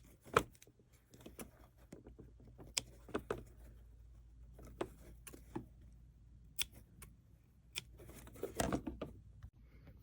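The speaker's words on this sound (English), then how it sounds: "Trim these threads." Scissors snip threads on a small quilted scrap-fabric Christmas tree ornament, a scattering of soft, sparse clicks in a very quiet room.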